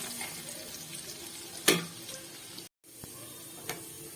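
Nigella seeds, chopped garlic and two dried chilies fry in hot oil with a steady close sizzle and crackle, punctuated by a sharp clatter midway, a brief gap of silence and a second fainter knock near the end.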